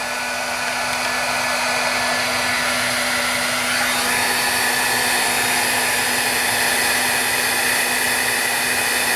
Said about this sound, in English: Now the last step is to turn on your heat gun and heat up the powder.